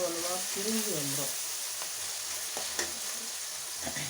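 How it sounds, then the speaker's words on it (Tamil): Small onions sautéing in a pan for a wedding-style vatha kuzhambu, a steady broadband sizzle with occasional soft clicks of stirring, following a brief stretch of voice at the start. "வெங்காயம் வந்து இருக்கிற இடமே தெரியாத அளவுக்கு வதக்கணும்"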